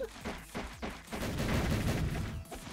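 Rapid gunfire from the fighting game Granblue Fantasy Versus: Rising, shots crackling in quick bursts over a busy, dense wash of game effects and music.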